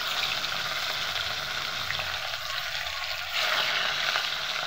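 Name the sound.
fish frying in hot oil in a wok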